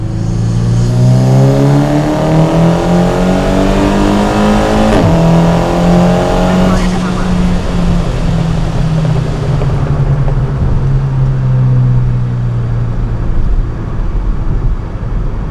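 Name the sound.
Volkswagen Scirocco R 385 bhp engine accelerating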